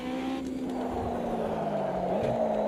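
A tiny race car with a motorbike engine mounted over the rear axle revs in the Automobilista 2 racing game, a steady, moderately quiet engine whine holding pitch with a brief rise near the end, heard alone.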